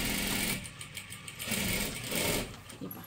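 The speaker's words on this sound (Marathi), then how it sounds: "इथून हे आपल्याला शिलाई करत करत घ्यायचं आहे" A sewing machine hums close and continuously while stitching a salwar seam, its motor whir steady with slight swells over a few seconds. No voices are heard.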